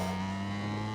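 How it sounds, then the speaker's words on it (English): Race car engines bouncing off the rev limiter, a loud steady buzzing drone with a strong fixed pitch, close and continuous with no voices. "These boys love the rev limiter, don't they?"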